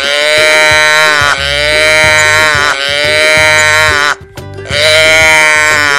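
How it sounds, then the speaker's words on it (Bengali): Cattle call loudly at night as a story sound effect, repeated drawn-out bellowing moos close up in long overlapping bursts with a brief pause near the end. "রাত্রিরে তার গরুগুলো খুব ডাকাডাকি করছিল।"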